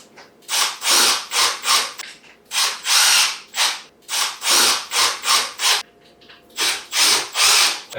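A hand tool tightens bolts on a cat exercise wheel, a series of loud rhythmic ratcheting rubs in quick bursts with short pauses, close up and with no speech.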